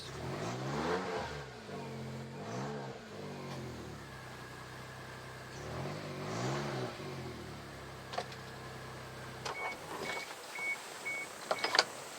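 A lifted Suzuki Jimny engine revs up and down repeatedly in throaty surges, followed by quieter idling with a few faint electronic beeps near the end.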